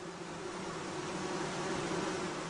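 Honey bees swarming around a hive where a young virgin queen is about to make her mating flight, giving a steady, dense hum with a strong tonal drone that holds at an even level throughout, with no voices.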